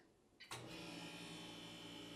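A freeze dryer powers on after its start button is pressed, a short click then a steady mechanical hum and whir that continues at moderate, even level.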